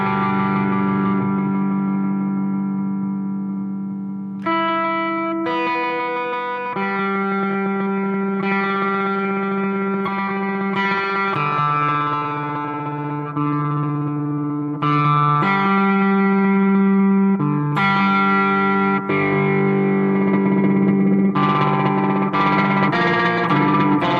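Electric guitar through the slicer effect of a Boss GT-1000 multi-effects unit, sustained chords chopped into rhythmic pulsing slices with changing patterns and echoey processing, loud and continuous with no talk.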